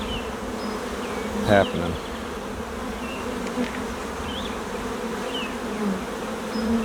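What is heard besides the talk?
honey bees buzzing in a hive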